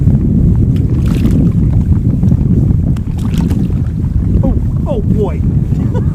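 Wind gusts roar steadily across the microphone of a kayak out fishing on a lake, a dense low rush that lasts the whole stretch, with brief faint creaks and splashes standing out near the end.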